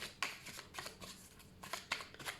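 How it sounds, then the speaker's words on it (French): Oracle cards by Béline being shuffled for a nine-card reading, giving soft, close riffling and sliding bursts in an uneven rhythm with no voice over them. "je vais faire un tirage en 9 cartes avec l'oracle de Béline"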